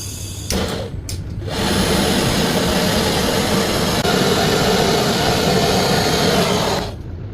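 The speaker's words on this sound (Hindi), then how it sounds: "तो हम चलो वेल्डिंग कर लेते हैं सबसे पहले।" A gas torch roars steadily as a refrigerator's copper capillary tube is brazed to the copper and iron dryer filter, a loud continuous hiss that starts after a brief pause and cuts off near the end.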